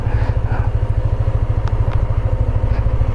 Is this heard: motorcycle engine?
yes